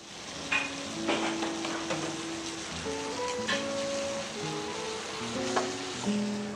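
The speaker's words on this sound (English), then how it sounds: "The scallops go into a dry pan and are roasted at 450 degrees for" Scallops searing in a dry pan, a steady close sizzle with crackling pops and scattered bright tonal clinks throughout.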